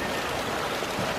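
Water from a waterfall pours out of rock into a koi pond, a steady close splashing rush with no pauses and no voices.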